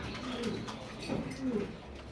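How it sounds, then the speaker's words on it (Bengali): Pet pigeons cooing at a Bangladeshi pigeon seller's stall, including Spanish pouter birds. Soft, low throaty coos come in a few rolling bursts, fairly close, with no talk over them. "দর্শক দেখেন কবুতরগুলা দেখলে খালি দেখাইতে মন চায়"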